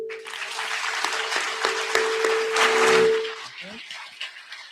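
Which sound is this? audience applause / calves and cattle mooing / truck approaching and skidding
audience applause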